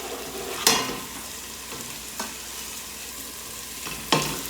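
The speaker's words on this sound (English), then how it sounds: "now what we do is we add our chopped chipotles and stir them for 30 seconds" Chopped chipotles stirred and frying in a pot for vegetarian chili, a constant close sizzle broken by a few sharp spoon scrapes and knocks, with no voices.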